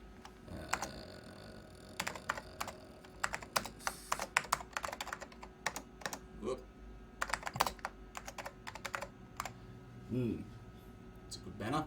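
Keys clatter on a 1987 Apple Macintosh SE keyboard in irregular bursts of sharp, close clicks, with pauses between runs and a steady machine hum underneath.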